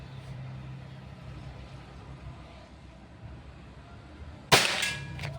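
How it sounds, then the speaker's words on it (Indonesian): A single sharp shot from a Pajero Gun Gen 6 air gun during an accuracy test, one loud abrupt crack near the end after quiet outdoor ambience, with a short ringing tail. "Tembakan keempat."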